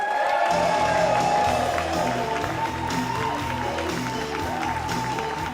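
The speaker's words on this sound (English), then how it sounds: "Will you give an enormous round of applause for Will Broom?" Steady, dense applause from a comedy club audience with some cheering mixed in, loud and sustained throughout.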